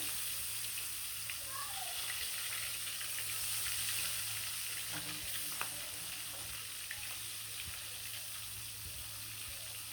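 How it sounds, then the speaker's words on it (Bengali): Whole shing catfish fry in hot oil, producing a constant, close bubbling sizzle with occasional crackles and pops that holds steady throughout. "আর এখানে গরম তেল বসা দিছি মাছগুলো কিন্তু আমি মাঝখান দিয়ে কাটবো না শিং মাছগুলো আস্তে আস্তে রান্না করবো দিয়ে দিলাম শিং মাছগুলো তেলে"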